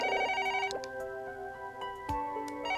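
A home telephone rings in the video game Another Code R: one short warbling ring burst right at the start, then fades into quiet tonal background music.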